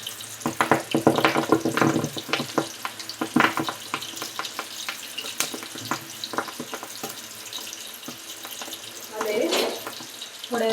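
A spoon stirring chopped onion and hibiscus leaves while preparing a homemade hair oil, giving irregular scraping clicks and soft sizzling, with a louder burst of stirring near the end.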